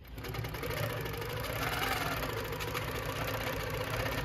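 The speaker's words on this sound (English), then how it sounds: "And then I can start stitching my way down this side." A Handi Quilter Pro-Stitcher quilting machine runs steadily while stitching fabric, giving a continuous mechanical whir with a rapid needle rhythm. The hum stays close and even, with no talk.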